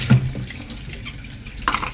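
A spoon is rinsed under a running kitchen tap during Ramadan cooking: a steady gush of faucet water splashing into a sink for about two seconds, close and clear, with no talking.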